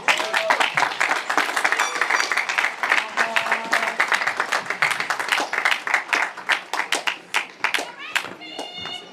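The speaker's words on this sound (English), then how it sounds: "let's give Dr. Eve another round of applause" A graduation ceremony audience at the Berkeley Institute applauds a speaker, Dr. Eve. Sustained, loud, close clapping thins into separate sharp claps toward the end, with voices and someone talking underneath.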